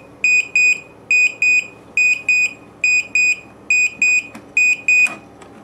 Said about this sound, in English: That's obviously the alarm.